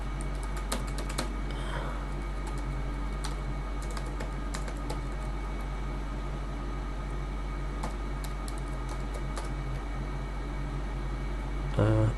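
Fast, steady typing on a computer keyboard with close, light key clicks through the whole stretch over a low constant hum, with a brief louder burst right at the end.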